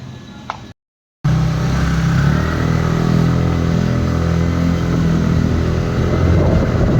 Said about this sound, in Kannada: ಈಗ ಬೈಕಲ್ಲಿ ಹೋಗ್ತಾ ಇದ್ದೀವಿ